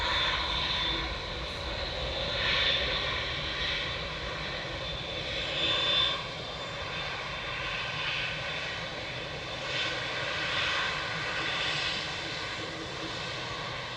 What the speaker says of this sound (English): Etihad 777 just flying over us, going from Dublin to Abu Dhabi